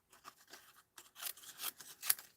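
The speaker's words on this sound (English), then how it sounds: "And I'm actually going to cut this piece in half." Stamped cardstock is cut in half in a quiet room, heard as a few short, crisp cutting strokes that grow louder toward the end.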